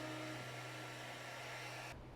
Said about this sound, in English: using your wife's hair dryer or a heat gun melting the wax into a jacket